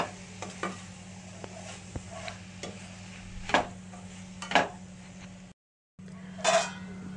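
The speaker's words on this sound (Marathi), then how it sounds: "थोडासा गरम मसाला टाकूया, ह्याला असं सगळं हलवून घ्यायचं एकत्र." Cabbage and peas sabzi seasoned with garam masala gets stirred in a pan, giving a soft sizzle with spatula scrapes and a few sharper clanks, then a brief silence before one more stir.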